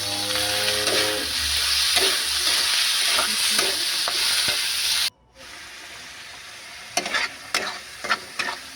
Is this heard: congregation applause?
no